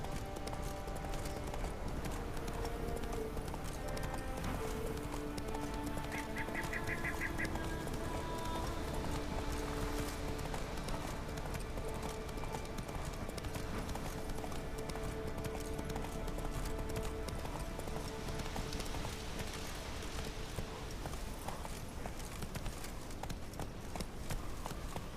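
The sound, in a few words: Geralt's horse Roach galloping in the video game The Witcher 3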